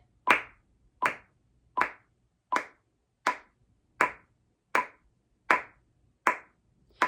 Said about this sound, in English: So this is my metronome at 80. I'm going to clap with it.